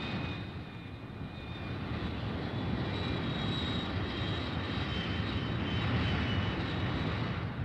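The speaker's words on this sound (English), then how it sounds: "Back at the base, the fighter bombers take off." Fighter bomber aircraft taking off from a military air base, a steady broad engine roar with a faint high whine, continuous and fairly loud throughout, with no talk.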